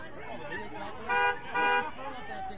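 Two short car horn honks sound over a busy street murmur, with crowd chatter and traffic noise continuing around them.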